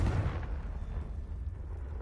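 A Confringo fire spell from Hogwarts Legacy detonates in a low, rumbling blast that thuds loudest at the start and then rolls off into a sustained dull roar, with no voices.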